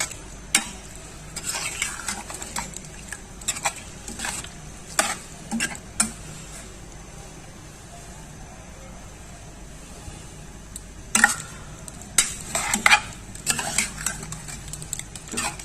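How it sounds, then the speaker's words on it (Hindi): Garlic, turmeric and salt frying in oil in a pan, a soft continuous sizzle broken by repeated scraping and clinking of a spoon as the mixture is stirred at close range. "अब इसमें गार्लिक, टर्मरिक, हल्दी, सॉल्ट, ऑयल, उसके साथ हम इसको भून रहे हैं"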